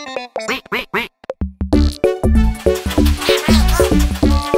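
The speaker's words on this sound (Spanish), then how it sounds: "aquí está Pato, que también acaba de volver de las vacaciones" Pato, the cartoon duck from Pocoyo, quacking in a rapid series of loud, close, nasal quacks, starting with short bursts and then running into a busier stretch.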